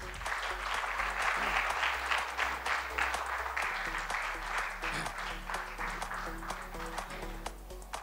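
An audience at a Rotary quiz bowl event in Goa applauds, with dense, sustained clapping that holds at steady strength throughout the clip.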